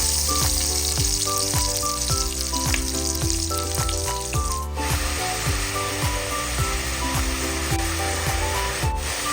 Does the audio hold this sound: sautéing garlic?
yes